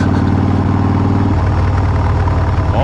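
A Harley-Davidson Breakout's V-twin engine runs steadily close by, its low, throbbing pulse shifting in pitch partway through before settling into a rougher idle.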